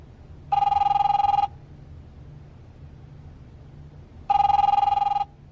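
An old-style telephone bell rings in The Wolf Among Us game, two loud, buzzing rings about a second long, separated by a few seconds of low hum, with no talking.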